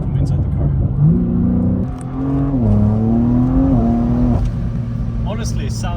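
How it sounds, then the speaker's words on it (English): A BMW M3 G80 with a Valvetronic exhaust heard from the cabin. The engine note rises and falls through revs in a close, steady drone, with a voice speaking over it. "I can show you a sound check from inside the car"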